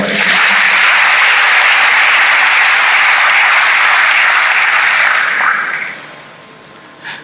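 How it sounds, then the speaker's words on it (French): A church congregation bursts into loud, dense applause that holds steady for several seconds, then tapers off to scattered claps and quiet. "Acclamons le Seigneur."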